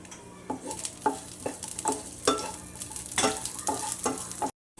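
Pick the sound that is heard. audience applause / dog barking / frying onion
frying onion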